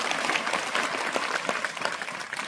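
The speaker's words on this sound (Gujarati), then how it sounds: "આપણે સૌએ આ લાયન્સ ક્લબમાંથી પધારેલ સૌ પદાધિકારીઓ માટે જોરદાર તાળીઓ પાડવી જોઈએ" An audience at a school event in Nadiad claps steadily for Lions Club officials at the unveiling of a water purifier and water cooler, a dense, continuous round of applause with no speech.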